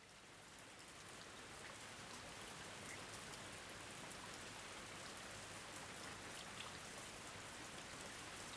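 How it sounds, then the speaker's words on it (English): Steady, dense rainfall hisses evenly throughout, a continuous wash of droplets on surfaces with no voices. "It suddenly started raining after that."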